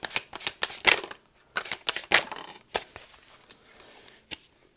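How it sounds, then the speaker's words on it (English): A pile of tarot cards is shuffled by hand in quick riffling bursts, loud and close at first, then thinning into scattered softer flicks and a final snap. "A pile of cards that don't want to shuffle."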